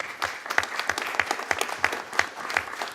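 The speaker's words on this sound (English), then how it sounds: "a big round of applause for Sarah" A small audience applauds at a conference, a patter of individual claps with a fairly steady rhythm, moderately close and with no talking.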